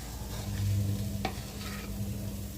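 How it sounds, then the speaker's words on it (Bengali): Rice and lentils being stirred with spices in a kadai over low flame, soft scraping and shuffling with a faint sizzle, one sharp utensil tap partway through, over a low steady hum. "দিয়ে খুব ভালোভাবে সব মশলা নাড়াচাড়া করে নিচ্ছি।"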